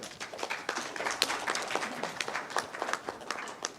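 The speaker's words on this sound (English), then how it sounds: "Clap for him." An audience at an agricultural workshop in Ghana's Ashanti region claps for a presenter; a moderately quiet, sparse patter of hand claps runs steadily throughout with no talking.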